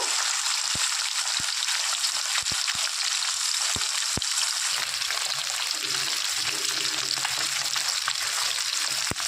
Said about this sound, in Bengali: ভালো করে মাছগুলো লাল করে ভেজে নেব।